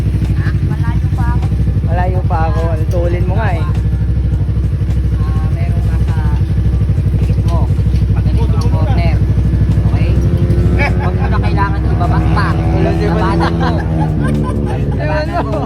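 Suzuki Raider 150 Fi motorcycle ridden on a racetrack by a 10-year-old: a steady, buzzing engine drone that holds throughout, with people chatting nearby over it.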